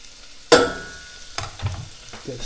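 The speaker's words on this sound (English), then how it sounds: "There's that sizzle I like from the onion." Onion hitting a hot pan with a sudden sharp sizzle burst that fades quickly, followed by quieter crackling and a few soft knocks of a utensil, close by.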